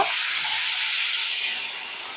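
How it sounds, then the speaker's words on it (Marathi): A brief, bright hiss of spices hitting hot oil over high flame for a spinach dish, loud and close, fading slightly toward the end. "हाय फ्लेमच ठेवायच्या, चरकन फोडणी बसली पाहिजे"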